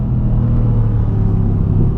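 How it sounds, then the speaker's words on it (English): The 4-liter twin-turbo V8 of a Mercedes C63 AMG S Coupe gives a loud, deep, steady rumble, heard close and alone for a couple of seconds without any voices. "I was a little bit hesitant that the 4-liter twin-turbo V8 wasn't going to sound good, but man, it sounds great."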